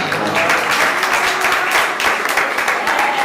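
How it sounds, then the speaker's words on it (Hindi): Audience clapping at a Jain religious discourse on Tirthankar Mahavir, a dense, loud wash of many hands filling the whole stretch without any voice over it. "आज ताली बजाओ, कल लोग तुम्हारे लिए ताली बजाएंगे।"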